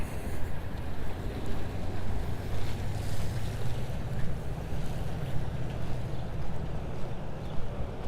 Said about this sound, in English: There's a boat.